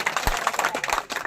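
A crowd at a village rally for a district headquarters claps loudly, with dense continuous applause and a few sharper individual claps standing out, nearby and with no talking.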